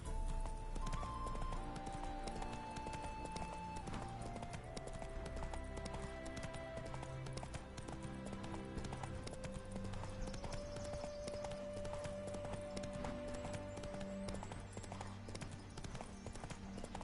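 Roach, a horse in the video game The Witcher 3, trots with a steady, close clip-clop of hooves that continues under sustained background game music.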